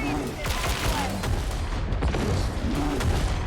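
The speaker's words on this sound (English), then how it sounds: "Grenade." A grenade goes off in Warhammer 40,000: Darktide as one of several booming thumps inside a chaotic firefight, with blasts and crackling shots repeating across the stretch and a voice speaking briefly.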